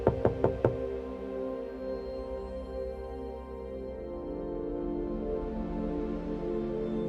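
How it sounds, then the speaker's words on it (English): Four quick, evenly spaced knocks on a door, close and sharp, in a quiet room; a low sustained musical drone carries on beneath and after them. "a knock at the door."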